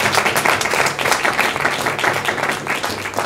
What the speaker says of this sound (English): So a special round of applause for Nataki